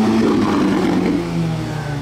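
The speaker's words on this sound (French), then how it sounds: "violence des retours d'échappement" A car engine revving hard up close, with a loud, steady, throaty mid-range roar that holds for a couple of seconds with a slight dip partway through, and no talking.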